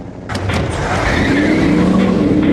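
A car's tires screech and skid through a sharp getaway turn in dense city traffic while fleeing a police car, a loud sustained squeal over engine roar with no talk.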